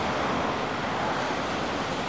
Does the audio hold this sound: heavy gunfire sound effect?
no